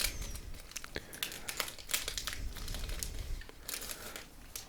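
A trading card booster pack being opened: steady, close crinkling and crumpling of foil wrapper with tearing bursts, continuous and fairly loud throughout, no voices.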